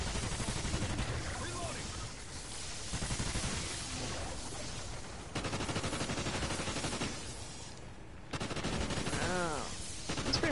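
Rapid bursts of gunfire from the Extinction video game, dense crackling volleys in several stretches with brief gaps, mixed with game effects and people talking over it.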